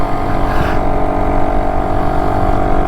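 A BSA Bantam motorcycle's small single-cylinder two-stroke engine runs steadily and loudly nearby with a constant buzzing drone and a slight rise early on, with no talking.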